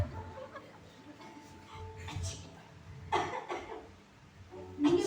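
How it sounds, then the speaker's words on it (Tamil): A person gives a few short, rough coughs while other people talk nearby, with some faint laughter near the end. "ஏன் உங்களுக்கு என்ன ஆயிட்டு இப்படி இருமுறீங்க?"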